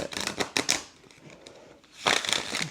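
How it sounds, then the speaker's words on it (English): A large, hard-to-hold card deck is shuffled in two close bursts of crisp riffling and flicking, with a quieter handling lull between them. "So it's a larger deck, so it's hard to shuffle."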